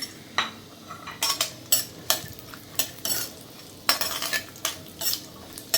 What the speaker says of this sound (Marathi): तूप गरम झाले, आता ह्यामध्ये ड्रायफ्रूट आपण परतून घेऊ